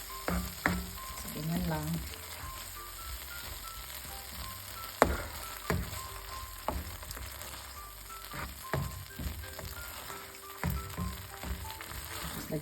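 Drained tuna sautés in a hot pan for tuna pasta, with a continuous sizzle, sharp spatula scrapes and stirring knocks, and a brief spoken remark partway through.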